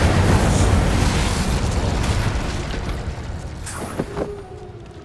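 An Incendio fire spell in Hogwarts Legacy erupts into a loud, rumbling fiery explosion that roars at full strength, then gradually fades over several seconds with some crackling pops near the end.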